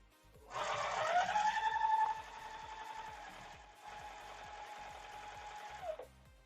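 A sewing machine stitches colored pieces of a framed pinwheel quilt block, running in a steady, close, mechanical rhythm that is louder at first and then eases to a softer run before it stops.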